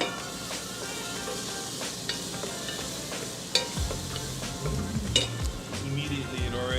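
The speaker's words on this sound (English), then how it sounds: "you know it's good when you hear that sizzle" Garlic sizzling as it starts to cook in a pan, a steady loud frying hiss with stirring scrapes that grows busier toward the end.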